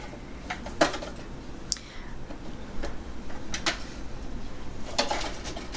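Barbecue ribs being flipped on a Ninja Foodi grill, with scattered light metallic clinks and taps of tongs against the grill plate over a quiet background.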